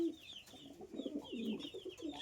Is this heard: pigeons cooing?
yes